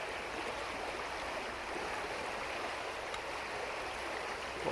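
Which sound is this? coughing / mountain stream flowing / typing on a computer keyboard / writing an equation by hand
mountain stream flowing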